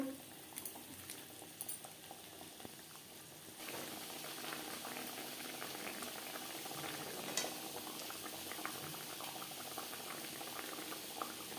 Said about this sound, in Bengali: তিন চার মিনিট গ্রেভি বেশ ভালো করে ফুটিয়ে নেব